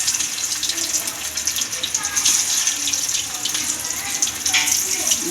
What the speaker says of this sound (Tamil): சிக்கன் வறுக்க போகிறோம்.